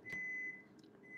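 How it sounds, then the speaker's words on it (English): Air fryer cooking French fries gives a short electronic beep, then a brief pause and another beep starting, faint against quiet room noise. "That air fryer over there beeps because it wants you to"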